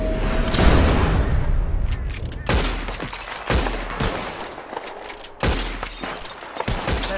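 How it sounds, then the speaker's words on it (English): Revolver shots shattering glass bottles in Red Dead Redemption 2, with several sharp loud cracks spaced about a second apart, each followed by breaking glass, over a low background rumble. "Who can shoot the most bottles?"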